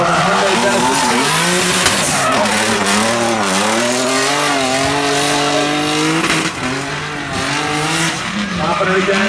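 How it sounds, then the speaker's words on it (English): Hyundai Genesis drift car at a drifting qualifying event in Atlanta, its engine roaring and revving hard while the tires squeal continuously, loud and close throughout, with an announcer talking over the noise. "On the throttle, the Hyundai Genesis."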